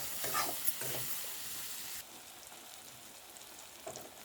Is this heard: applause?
no